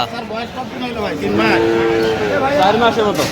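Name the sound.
cow and calf mooing at a cattle market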